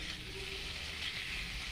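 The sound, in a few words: potatoes frying in a pan with turmeric and salt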